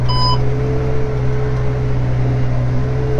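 A tractor engine drones steadily throughout while sowing winter barley, with a short electronic beep from the cab at the very start.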